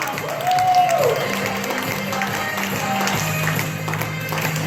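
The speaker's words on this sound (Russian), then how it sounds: "сейчас самые бурные аплодисменты" A company event audience claps for a newly introduced sports director, moderate applause that holds steady at mid distance with a few faint voices mixed in.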